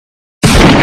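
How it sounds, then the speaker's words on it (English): A sudden loud gunshot-like bang bursts in after silence and holds as a dense, explosive crack with a rumbling tail, standing alone without voices. "Loud gunshots can be heard."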